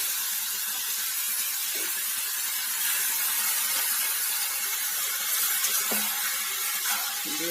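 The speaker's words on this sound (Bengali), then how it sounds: "কষানো মশলার মধ্যে এবার এখানে যে মোচা, আলু আর ছোলা যে একসঙ্গে সেদ্ধ করে গেছে এটা দিয়ে দেবো।" Boiled banana flower, potato and chickpeas dropped into spices frying in a pan give a steady, close sizzling hiss that runs throughout with a few small clinks, and no one speaks.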